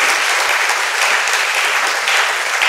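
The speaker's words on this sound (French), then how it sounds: "Acclame pour le Seigneur Jésus." A church congregation bursts into sustained, dense applause, many hands clapping together in a loud, continuous wash that fills the hall from start to finish.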